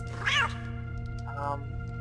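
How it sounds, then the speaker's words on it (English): A cat in the stealth video game Thief: Deadly Shadows meows loudly once, a rising, wavering call, followed by a softer, shorter second meow over a steady background hum of game ambience. "Cats will alert your position."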